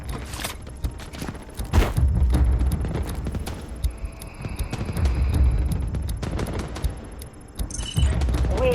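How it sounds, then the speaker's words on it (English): Delta Force Mobile gameplay with an artillery barrage and gunfire: bursts of shots and sharp rapid cracks come in clusters over a steady rumble, loud and close, with no talk. "Artillery barrage ready."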